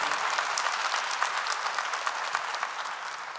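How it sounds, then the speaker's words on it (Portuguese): A church congregation at a Catholic Mass claps together in steady, dense applause, moderately distant and without any talk over it. "Vamos aplaudir"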